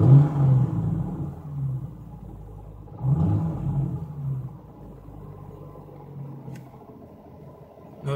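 A car engine rumbles and revs twice, swelling in low growling bursts before settling back to a steady idle.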